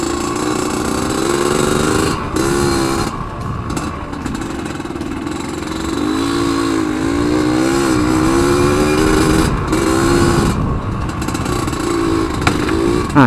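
An RX Spesial motorcycle engine rides along at easy throttle, a loud, close, continuous drone that rises and falls gently with a few brief dips in revs.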